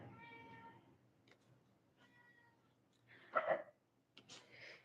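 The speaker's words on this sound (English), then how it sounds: "Can you hear my cat?" A house cat meows softly indoors. A few faint meows and small vocal sounds come in short bursts with quiet pauses between them.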